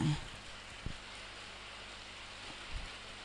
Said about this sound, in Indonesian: Mungkin agak sedikit berisik mungkin karena di sini hujan.